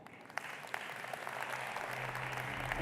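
Applause from the audience welcoming Saudi Arabia's Minister of Tourism, Ahmed Al-Khatib, builds into dense, steady clapping across the room and carries on without break.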